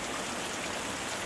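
Steady, dense rain pouring continuously, a broad even hiss close by with no pauses or other sounds.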